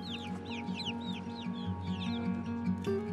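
Chickens cluck repeatedly over a steady hum while feeding on leftover watermelon, with a rooster-like call near the end; the clucks are close, busy and overlapping, with no talk.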